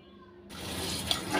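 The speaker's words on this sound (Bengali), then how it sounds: "পেঁয়াজ কুচিটা এখন নাড়াচাড়া দিয়ে আস্তে আস্তে লাল করে নিচ্ছি।" Chopped onions frying in soybean oil in a home kitchen pan, a steady broadband sizzle that starts abruptly partway through and continues close and even, with a small clink near the end.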